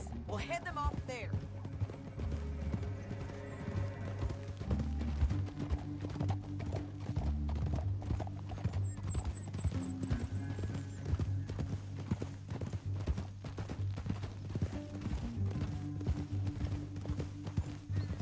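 Horse hooves clip-clopping in the Western video game Red Dead Redemption 2, steady rhythmic hoofbeats under a continuous music score, with occasional voices and a brief whinny.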